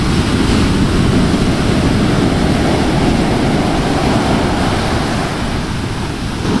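Ocean waves break and suck back down on a steep beach, making a loud, continuous roaring wash with heavy rumble and wind buffeting the microphone, with no speech.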